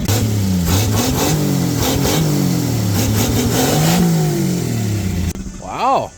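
A 1954 Chevrolet engine revving after a carburetor adjustment, rising and falling loudly and close, with a voice talking over it before a sudden cut near the end.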